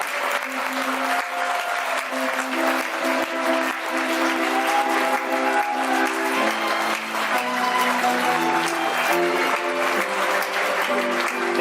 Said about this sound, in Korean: 신랑, 신부, 행진! 예빈 여러분 큰 박수 부탁드리겠습니다.